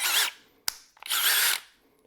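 A cordless drill with a 2-speed transmission whirs in two loud bursts, each under a second, split by a sharp click and a short pause. No one speaks.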